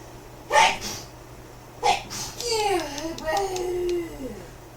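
Two sharp sneezes, one after another, from a person close by, followed by breathy vocal sounds and a short high-pitched voice.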